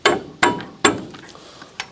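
Metallic hammering and clanking while fitting the axle nut on a 2000 Ford Ranger 4x4 during a lower ball joint replacement, with three strong strikes in quick succession followed by lighter taps.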